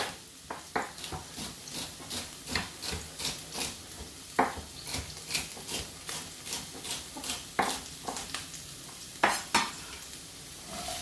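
Celery sweating in a cooking pot for a hearty vegetable soup: a steady run of close stirring scrapes and taps against the pot over a soft, continuous sizzle, with no talking.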